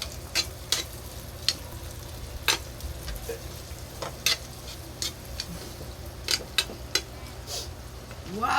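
Spicy pork sisig being stirred as it fries in a pan gives a continuous close sizzle broken by sharp, irregular scrapes and clacks of the utensil against the pan, with no talking.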